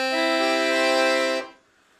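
A black Excelsior Accordiana Slimline LM 120 accordion on its treble master register, all reed sets together, sounds one full, buzzy sustained chord up close for over a second before cutting off cleanly into silence.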